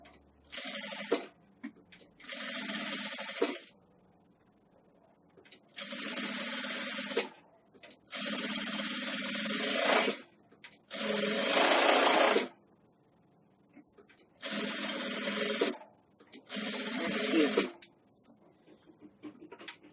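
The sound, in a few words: sewing machine stitching a nursing pillow seam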